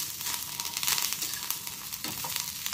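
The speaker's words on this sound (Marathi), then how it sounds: "एक चमचाभर तेल टाकायचं। हे सगळं असं 1-2 मिनटं भाजून घ्यायचं।" Garlic and other chutney ingredients roasting in a spoonful of oil in a pan, a close, continuous crackling sizzle with scattered pops and a short scrape of stirring.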